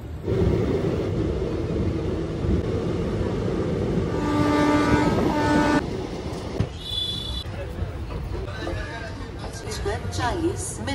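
Teesta Torsha Express passenger train running with a steady loud rumble of wheels on rails, a sustained horn blast cutting through midway, then continued rattling and clatter of the moving coaches.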